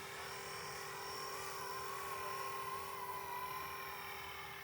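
A Blade Eclipse 360 RC helicopter with a separate tail motor hovers steadily, its rotor and motor whine a constant, even drone with a high tonal hum, close by and uninterrupted.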